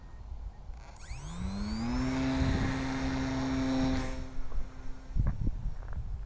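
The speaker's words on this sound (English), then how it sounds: "So let's see if we can get it in the air again. Launching." An XK A300 550mm four-channel Red Baron RC biplane with an electric motor and a 7x5 propeller is hand launched. The motor whines up sharply, holds a steady buzzing drone for a few seconds, then throttles back, with outdoor rustling and handling noises.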